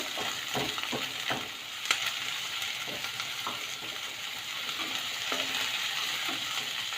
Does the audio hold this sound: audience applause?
no